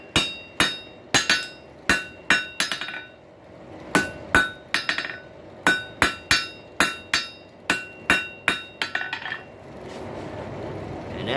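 Hot steel is hammered on an anvil while a tenon hook is forged. Loud, close, ringing hammer blows fall in a steady rhythm, often in quick pairs and clusters, then fade into quieter shop noise at the end.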